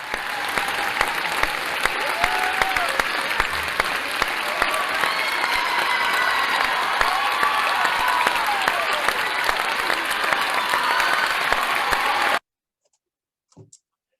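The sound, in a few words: applause at the opening ceremony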